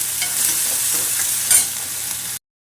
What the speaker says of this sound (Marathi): कांदा भाजी झाल्यानंतर टमॅटो घालायचे चांगले भाजून घ्यायचे